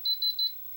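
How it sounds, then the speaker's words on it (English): A Sony SLV-998HF VCR from 1999 beeps in its tuner menu: three short, clean electronic tones in quick, even succession, close and alone. "It beeps at me."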